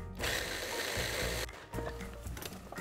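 A hand grinder gives a last grind of black truffle for a black truffle and anchovy sauce, a steady close grating rasp for over a second, a short pause, then a rougher burst of grinding.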